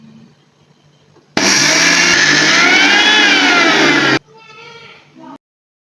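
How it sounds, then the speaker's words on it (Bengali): An electric blender grinds sesame seeds for a sesame mash: a loud, steady whirring roar starts abruptly, runs for about three seconds, then cuts off, with quieter rattling afterward. "এরপর আমি এই তিলগুলোকে ব্লেন্ড করে নিব।"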